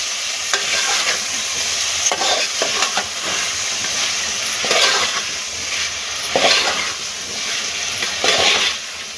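Vegetables including tondli (ivy gourd) and peanuts sautéing in oil for veg pulao, a steady close sizzle broken by several louder bursts of stirring and scraping at regular intervals.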